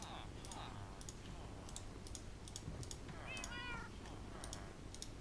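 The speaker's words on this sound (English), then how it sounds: "You can hear the cats" Cats meow faintly in the background of a quiet ASMR gameplay room, a few soft drawn-out calls mixed with steady light clicks and taps from dice or keys.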